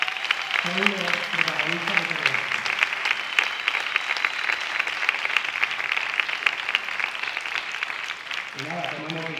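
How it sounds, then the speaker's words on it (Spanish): An audience at a short-film gala applauds the young helpers with sustained, bright clapping through the middle stretch. Someone speaks over the start and again briefly at the end. "un aplauso para ellos, por favor"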